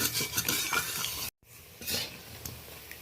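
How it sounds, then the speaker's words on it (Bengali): Gima greens pakoras being turned and stirred in hot oil in a pan, with steady sizzling, spoon and pan clatter, a brief dropout midway, then frying resumes alone. "একদিকটা অনেকটাই হয়ে গেছে, আর একদিকটা আমি নাড়াচাড়া করে দিলাম।"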